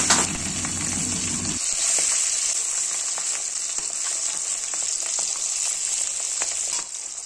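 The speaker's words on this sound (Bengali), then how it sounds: "তো এখন কড়াই গরম হয়ে গেছে, তো সর্ষের তেল দিয়ে দিলাম। এবার একে একে মাছগুলো ভেজে নেব।" Pieces of fish fry in mustard oil in a wok, a loud, continuous close-up sizzle with a brief burst of stronger spattering at the start and scattered crackles throughout.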